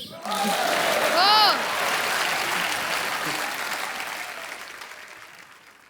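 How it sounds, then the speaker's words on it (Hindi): Loud studio audience clapping on a comedy talk show, with a brief whistle near the start, gradually fading over several seconds amid crowd noise. "ठोको ताली।"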